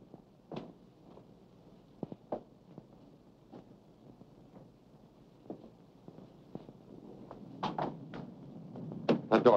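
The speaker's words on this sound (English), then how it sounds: "It sounded exactly as if someone was trying to pick the lock." A door handle rattling as someone tries a locked door, a series of faint, scattered knocks and jiggles in a quiet room, growing busier and louder near the end.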